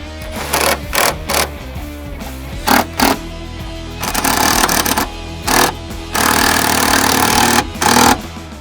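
A power tool drives the supplied bolts with 3/16 Allen heads into an ARB compressor mount, loud close bursts of whirring, some short and choppy and others held for a second or more, with no speech.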